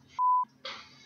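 A single steady censor bleep tone lasts about a quarter second, set between quiet room noise and a burst of broadband sound.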